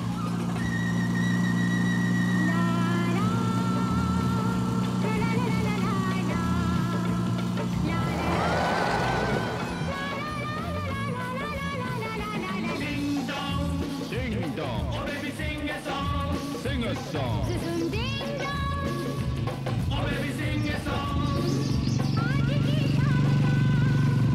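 A motorbike ridden in India with a passenger on the back, its engine droning steadily throughout amid road noise and passing clatter, with occasional faint voices in the background.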